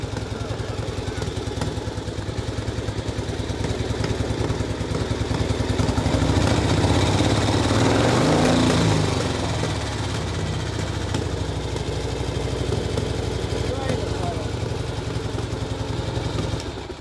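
A motorcycle engine with a bad lifter runs close by in a steady, loud idle with a faint ticking rhythm, briefly revving louder in the middle while a person talks over it.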